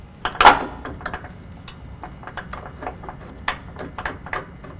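A factory bolt pushed through a lift kit mount on a 2015-17 Ford F-150 4WD during a 6-inch lift install: sharp metallic knocks and clinks, several scattered taps and scrapes close by, with no voices.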